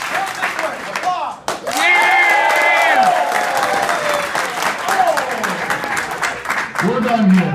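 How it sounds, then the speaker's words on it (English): Audience at a debate event bursts into applause, a dense, sustained clapping with cheering and shouts over several seconds, loud and close, with voices talking over the crowd. "Applaud."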